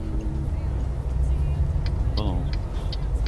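Steady low engine rumble of a car being driven and parked in a video game, with a few light clicks and a short squeal near the end; no voices present.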